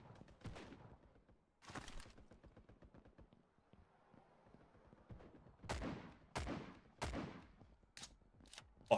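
Pistol shots in the toy-soldier shooter Mini Royale, several sharp separate cracks spread across the stretch, some in quick pairs, at moderate loudness with game noise between them.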